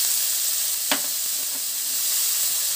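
Capsicum and tomato curry sizzles and fries steadily in a pan, a constant close hiss with a brief stir or clink near the start and no talking.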